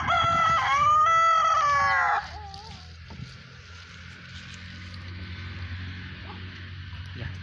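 A Kadaknath black chicken rooster crows once, loud and near, with a long wavering call. Fainter farmyard noises and soft clucks follow.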